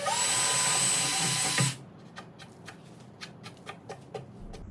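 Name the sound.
drilling holes in a bookshelf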